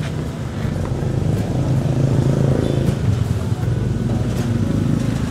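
A Honda Click scooter engine runs close by with a steady low drone throughout, its pitch and level holding fairly even with no talking.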